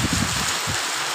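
Steady rain falls outdoors under heavy clouds, a dense, continuous hiss that sounds close and loud, with a rustling low rumble underneath and no voices.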